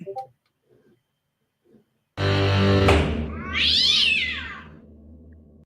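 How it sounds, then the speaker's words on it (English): Cats fight close by, with a loud drawn-out yowling caterwaul that rises into shrill, wavering screeches, after a few brief faint sounds at the start. "I think I need to go break up a cat fight."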